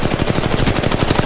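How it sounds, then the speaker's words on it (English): Rapid machine-gun fire in the mobile game Apex Legends Mobile. A loud, close burst of evenly spaced shots rattles on without pause for the whole short stretch. "Firing. Reloading. Reloading. Getting shot at."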